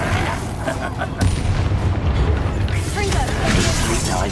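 A Confringo fire spell cast and its explosion in Hogwarts Legacy, a sharp loud burst about a second in followed by sustained crackling, rumbling combat noise with clanking mechanical sounds.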